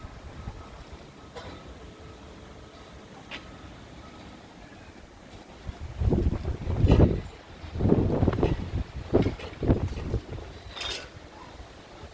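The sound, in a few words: strong wind blowing an outdoor patio roll-up blind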